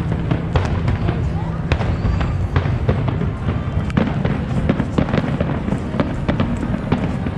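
New Year fireworks at Niagara burst repeatedly in crackling, booming volleys over a steady crowd murmur, with people talking and exclaiming throughout.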